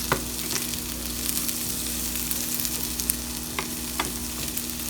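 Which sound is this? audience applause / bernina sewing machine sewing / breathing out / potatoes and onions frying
potatoes and onions frying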